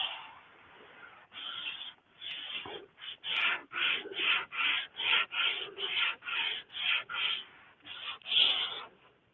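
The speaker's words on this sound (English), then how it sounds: "I'm just going to hand sand it with 150" Wood hand-sanded with 150-grit sandpaper, a long series of close, rhythmic rasping strokes, each about half a second, steady and evenly spaced with brief gaps between them.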